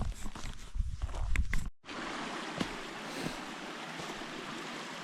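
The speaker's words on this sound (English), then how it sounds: "you can't see the waterfall, but you can hear the waterfall right here" Waterfall cascading down a mountainside on the Moab 240 endurance race course in Utah, a steady broadband rush heard close, after a brief stretch of handling noise and a short dropout at the start.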